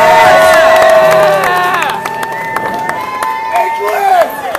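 A live rock crowd at a concert roars with loud, sustained cheering, shouting and high whistles that ease off and then swell again near the end.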